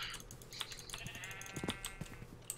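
Sheep bleating in Minecraft, a few short nasal bleats spaced across the moment over faint clicking game sounds, clear and close with no voices.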